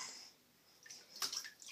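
A child splashes in a bathtub, soft water sloshing that starts faint and swells into a few brighter, close splashes and drips toward the end.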